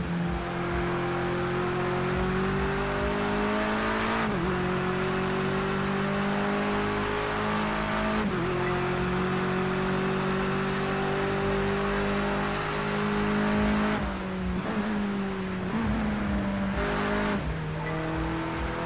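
Touring cars, including a front-wheel-drive Astra, race on a wet Bull Ring circuit in Project Cars 2. Several loud, continuous engines drone and rise together, with repeated pitch drops at gear changes and steady road noise throughout.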